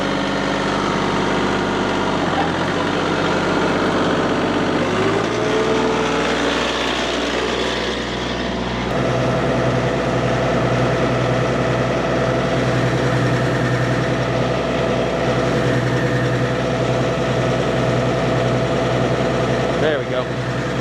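A MechMaxx tractor-driven wood chipper starts up and runs with a loud, steady engine drone that climbs in pitch and settles into a constant rumble. Voices are heard over it.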